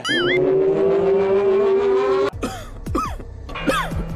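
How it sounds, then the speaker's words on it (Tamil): A man coughs: a sustained, tonal rasping cough-like sound, then several short sharp bursts, loud and close, over a noisy background. "அதனாலதான் அண்ணன் இருமுறாரு"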